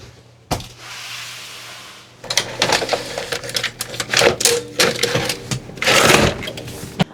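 Printer being loaded with vellum paper in a small home shop: a brief motor whir followed by a run of quick clicks, clacks and paper handling rustles, close and fairly loud.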